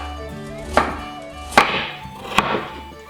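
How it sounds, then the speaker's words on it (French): A knife chops through a peeled vegetable on a board, cutting it into half-rounds for an Irish-style shepherd's pie; three sharp, evenly spaced strikes stand out close and clear, with no talking. "Et ensuite, je vais couper des demi-ronds."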